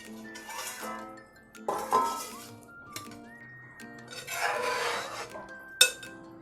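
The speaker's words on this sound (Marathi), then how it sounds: "आज झाकण काढून बघते" A metal lid clinks and scrapes as it is lifted off a pot of eel fish curry cooking on a medium gas flame, a few close, bright rattles and rubbing sounds spread over several seconds with no talking.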